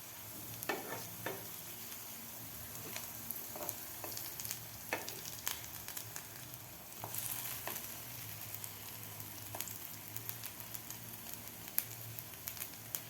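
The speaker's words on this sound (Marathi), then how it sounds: "दोन्ही साईडकडून आपल्याला थोडासा असा ब्राऊन कलर होईपर्यंत हे फ्राय करून घ्यायचे आहेत." Potato bites (aloo bites) shallow-frying in oil in a pan, a steady close sizzle and crackle with scattered sharp pops and spatters throughout, no voices.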